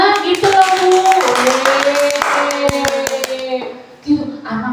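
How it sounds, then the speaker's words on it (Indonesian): Children clapping together in applause, a burst of hand claps mixed with voices and a tonal hum, fading and briefly rising again near the end. "Ya tepuk tangan buat semua."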